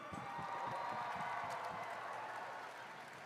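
Audience applause for rookie robotics teams at a FIRST FRC championship event, a steady dense wash of clapping from a large crowd filling the arena throughout.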